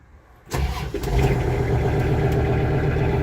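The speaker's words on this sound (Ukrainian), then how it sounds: "Зараз ми його заведемо." A Kubota GL 46 tractor engine cranks and catches after a brief quiet moment, then settles into a loud, steady diesel idle close by.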